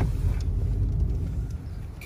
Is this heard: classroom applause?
no